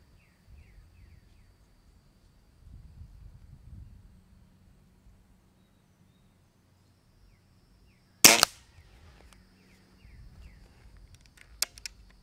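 Weihrauch HW 97K .177 underlever air rifle firing: one sharp, loud crack near the middle, then a fainter short snap near the end, with quiet handling noise and low rustling between them.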